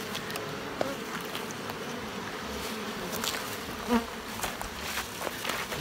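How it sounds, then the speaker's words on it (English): A steady, dense buzz of many honey bees humming together in a multi-queen hive close by, with occasional louder passes over the constant drone. "you can see that the bees are coming up and they're actively storing nectar into these frames"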